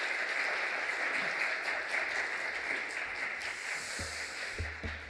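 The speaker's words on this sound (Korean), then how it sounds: "따뜻한 박수로 네," Church congregation giving warm applause to welcome the pastor, a soft, fairly distant patter of clapping from a small group that thins toward the end, with a few low thumps.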